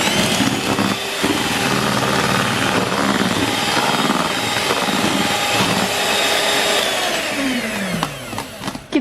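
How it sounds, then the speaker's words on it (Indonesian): Electric hand mixer whipping chocolate chiffon cake batter until pale and thick, a steady loud whirring drone that holds for most of the stretch, then dips and sputters near the end with no talking. "Mixer sampai putih, kental, dan berjejak."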